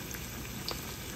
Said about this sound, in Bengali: গরম তেলে দেওয়ার সঙ্গে সঙ্গে এগুলো ভাজা হয়ে যাচ্ছে।